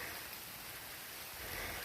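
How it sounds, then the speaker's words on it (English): Steady rain falling on a foggy mountain hiking trail, an even, soft hiss of drops throughout, fairly faint with no voices. "At least the rain's keeping it cool"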